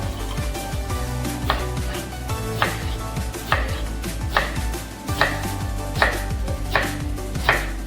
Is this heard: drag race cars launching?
no